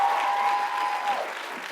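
Commencement audience applause fills the hall as a steady, dense wash of clapping that holds loud throughout, with a faint whistle-like tone briefly riding over it.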